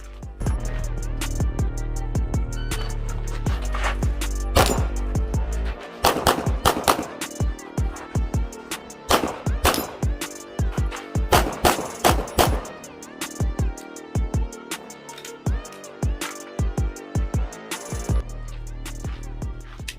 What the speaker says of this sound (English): time to shoot. Let's just shoot it.